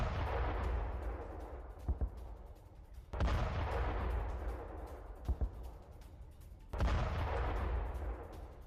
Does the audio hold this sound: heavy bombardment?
yes